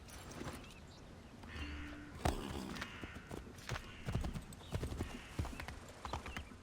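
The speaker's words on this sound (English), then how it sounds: "Hey, horse." Horse hooves clip-clop in the Assassin's Creed III video game, a run of fairly close, moderately loud hoofbeats in an uneven walking rhythm, with a faint snort or whinny and soft background ambience.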